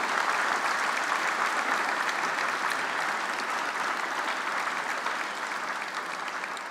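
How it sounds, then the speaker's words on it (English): A crowd at an annual lunch event keeps up a dense, steady round of applause that runs the full length and eases off slightly toward the end, with no voices over it. "Big round of applause."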